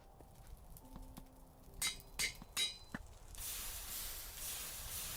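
An anvil in the Minecraft modpack TerraFirmaGreg rings with three sharp metallic hammer strikes while welding, spaced evenly within about a second, before a steady hiss takes over.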